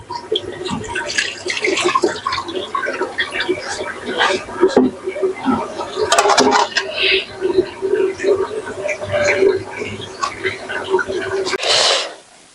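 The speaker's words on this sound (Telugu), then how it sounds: "నల్ల అంగూర తీసుకొచ్చి ఇట్లా మంచిగా నీట్గా కడగండి" Black grapes washed by hand in water: splashing, sloshing and dripping close by in uneven bursts, with a voice heard at times over the water.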